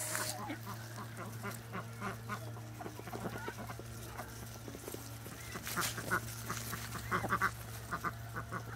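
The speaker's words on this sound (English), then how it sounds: "Why do we have 4 brown ducks?" Ducks quacking repeatedly at a moderate distance, mixed with clucking fowl, over a steady low mechanical hum.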